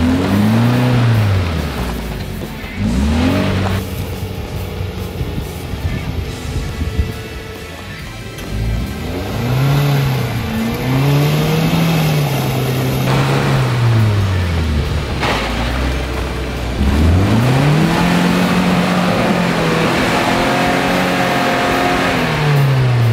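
Off-road car engine revving while stuck in mud, with repeated loud rising and falling revs in long bursts, close up, with wheels spinning between surges and no talking.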